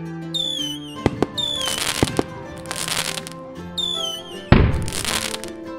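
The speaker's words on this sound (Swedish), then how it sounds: "Om du missade fyrverkerierna på nyår så är det inga problem. Vi har sparat lite fyrverkerier." New Year fireworks in a children's program: whistling rockets climb, then sharp bangs burst in three separate volleys over a steady musical background, loud and close.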